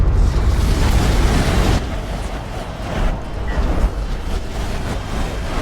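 Artillery barrage explosions in a real-time strategy video game, a dense, loud rumbling roar of overlapping blasts, steady throughout with a slight dip partway, and no talking.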